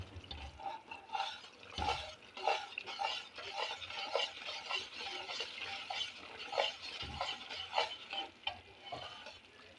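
Maida batter poured into a pan of halwa over a medium flame and stirred briskly, with soft scraping strokes and a steady low sizzle continuing throughout, no voices.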